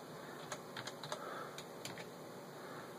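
Soft keystrokes on a computer keyboard entering a command into a Raspberry Pi terminal, about eight quiet, irregular clicks over a low steady room hum.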